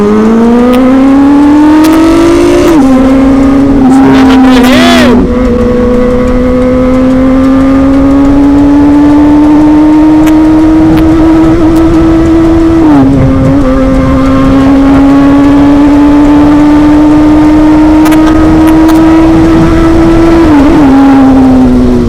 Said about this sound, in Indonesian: kita bakal tes suaranya lagi di bawah terowongan ya